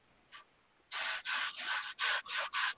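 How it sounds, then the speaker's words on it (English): Rhythmic sanding strokes, a short scrape followed by about seven rough back-and-forth passes, close and fairly loud. "I'm gonna mute the sanding for a sec"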